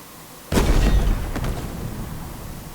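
A sniper rifle fires in Halo Infinite: one sharp, loud crack with a booming tail, then a fainter second report rolling into a lingering low rumble.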